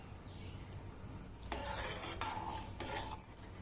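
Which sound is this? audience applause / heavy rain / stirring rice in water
stirring rice in water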